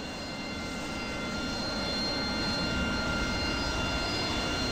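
An AV-8B Night Attack jet spools up for takeoff in the DCS flight simulator, giving a constant, loud engine roar with a steady whine that holds throughout without a break.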